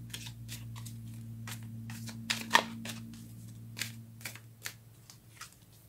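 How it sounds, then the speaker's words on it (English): Tarot cards shuffled and drawn close up: soft papery riffles and sharper slaps and flicks, irregular and quiet over a low steady hum. "Let's get one more card for May."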